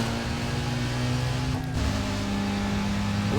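BMW M3 engine from Need for Speed: Most Wanted, a steady loud droning hum with a brief dip in the middle, holding close and continuous throughout.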